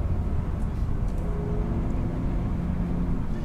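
An Alfa Romeo Giulia Quadrifoglio engine gives a deep, continuous roar, a steady low rumble that holds without letting up through the moment, with no voices over it.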